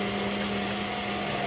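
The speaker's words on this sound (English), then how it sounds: "we just chopped up the tomatoes, poured it into the blender, and Soonoo's just pureeing them" A blender purees chopped tomatoes with a steady, dense whirring motor hum, continuous and close, with no pauses or talk.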